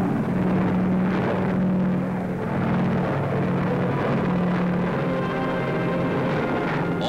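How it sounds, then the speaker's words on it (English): Huge WWII transport planes flying low over the sea make a continuous, droning engine hum with a steady low tone on old 1943 newsreel sound. "the huge transports take no chances as they barely skim the waves to avoid possible attack"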